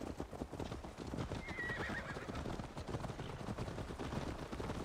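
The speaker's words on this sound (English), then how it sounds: "I guess the dialogue is done because the horses have gotten faster." Horses gallop in the video game Assassin's Creed Valhalla, a fast continuous drumming of hooves with a brief whinny, steady and moderately loud throughout.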